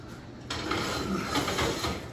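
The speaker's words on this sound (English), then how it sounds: "Go grab that oven door for me." An oven door swings open with a sudden mechanical clunk and scrape in a home kitchen during baking of sausage bread, followed by a steady broad rush of oven and room noise.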